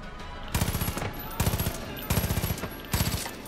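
Automatic gunfire in the video game Far Cry 5 during a co-op playthrough: four loud, close bursts of rapid shots, each about half a second long, separated by short pauses.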